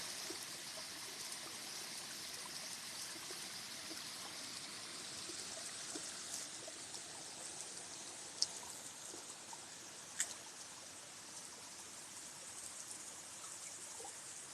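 Ice-cold water flows steadily in a mountain stream beside a lake, a constant close trickling rush with a few faint drips and splashes standing out.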